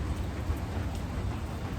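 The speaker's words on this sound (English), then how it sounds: "Pitter-patter of the rain on the roof." Steady rain patters on a metal roof, a constant close hiss of drops with no voices.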